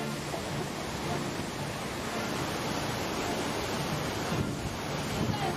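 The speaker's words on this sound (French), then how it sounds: "on va conclure avec ces images de cette cascade magnifique" A magnificent waterfall roars in a broad, steady wash of noise, loud and close, with wind buffeting the microphone.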